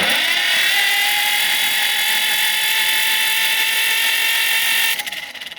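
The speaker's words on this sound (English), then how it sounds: "But the good news is the starter works." Starter motor cranking on a John Deere B tractor that sat unused for many years, a loud steady mechanical whir held for about five seconds before cutting off abruptly.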